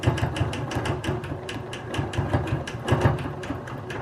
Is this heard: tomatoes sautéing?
no